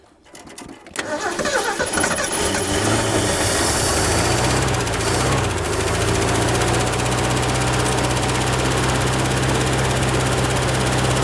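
A 1967 Ford F100 truck engine cranks and then runs steadily and loudly at close range, a continuous rough rumble with a faint drone above it.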